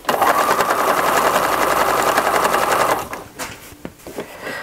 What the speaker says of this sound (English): you can put it back onto the machine and start sewing again, right from the very top edge